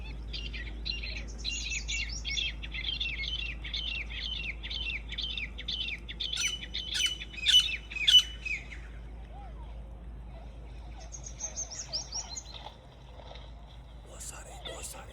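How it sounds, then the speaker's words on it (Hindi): Wild partridges call repeatedly in a rural village landscape, quick chirping bursts coming in clusters at moderate distance, with quiet background noise between calls. "बस ये काफ़ी तीतर हैं यहाँ पे, आवाज़ें निकाल रहे हैं काफ़ी।"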